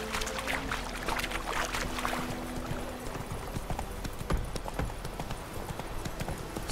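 Horse hooves in a video game, a rhythmic clip-clop of trotting over a busy game soundscape, moderately loud, with no talking.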